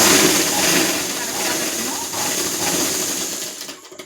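A sewing machine stitches a blouse seam in a steady, close, fairly loud mechanical whir, with a continuous rattling rhythm that tapers off near the end.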